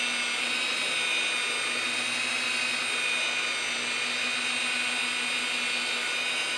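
Barjack professional rotary polisher running steadily with a constant high-pitched whine and low motor hum, close and loud, with no voices over it.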